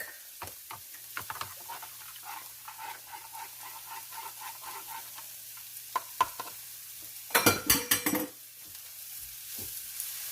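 Stock is added a little at a time to a hot pan of onions and garlic, giving a faint steady sizzle with light stirring clicks and a louder hiss that flares near the end.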